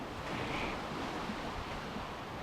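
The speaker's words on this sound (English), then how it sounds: "Waves crashing on the shore." Waves crash on a sandy shore in a dense, continuous roar, with wind noise on the microphone and no talk.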